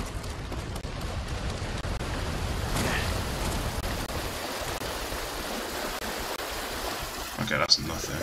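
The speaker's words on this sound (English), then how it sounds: "Looks like that waterfall over there is probably a cave" Steady rushing waterfall in the Ghost of Tsushima video game, a broad continuous wash of falling water holding even throughout, with a brief brighter splash near the end.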